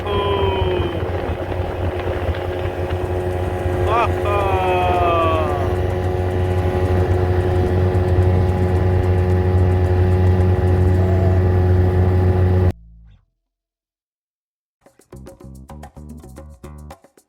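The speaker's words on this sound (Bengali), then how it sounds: "এই যে আমরা যাচ্ছি স্পিড বোটে করে।" A speedboat's engine drones loud and steady as it moves across the water, then cuts off abruptly into silence before a quieter mechanical rumble starts up again.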